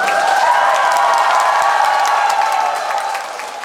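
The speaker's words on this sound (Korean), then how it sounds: "박수 한번 다시 한번 크게 한번 쳐보세요" Concert audience at a trad-pop show in Changwon applauding loudly, dense sustained clapping with some cheering, steady then tapering slightly near the end.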